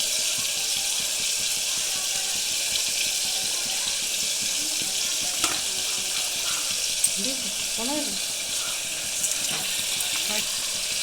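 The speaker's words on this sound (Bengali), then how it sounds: "ঝোলটা ফুটে গেছে এবার এক একে মাছগুলো দিয়ে দেবো" A pot of rohu fish curry broth with potatoes and drumsticks boils steadily, giving a constant bubbling hiss with occasional faint pops, close and even throughout.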